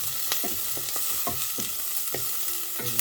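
Chicken wings fry in a hot pan with a constant sizzle, broken by repeated scraping and stirring knocks at an irregular rhythm, close and moderately loud with no voices.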